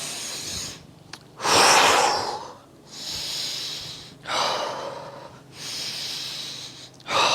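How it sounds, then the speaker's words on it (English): Deep, slow breaths during an emotional regulation exercise routine, close and loud, with long inhales and exhales in a steady cycle of about four breaths, separated by brief quiet pauses and no talking. "Big, slow breathing."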